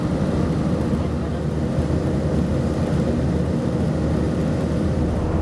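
Steady, loud broadband roar inside a Lufthansa Airbus A320 economy cabin climbing after takeoff from Copenhagen, a constant engine and airflow rumble with no breaks.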